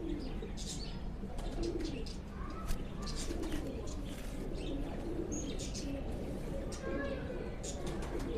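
Several Sialkoti pigeons of an old breed coo softly while being held in someone's hands, low and murmuring, with occasional chirps and wing rustles under people talking.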